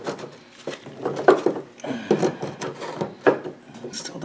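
A metal brake disc slides onto freshly cleaned hub splines, giving close, uneven scraping and rubbing bursts with a few sharper grinding peaks.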